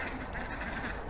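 Ducks quack softly in a garden while feeding on weeds, their muffled calls mixed into a busy, continuous outdoor background.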